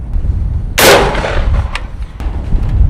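An AK-47 rifle fires one 7.62x39 round outdoors, a single loud, sharp blast that decays through a long echo, followed by a couple of faint metallic clinks.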